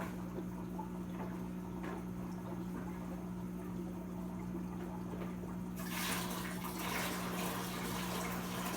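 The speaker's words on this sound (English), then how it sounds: "Stare at my running water, moving water from this top view." Steady running water in a discus fish tank: a continuous low gurgle and splash under a constant aquarium hum, growing slightly brighter and louder partway through, with no voices.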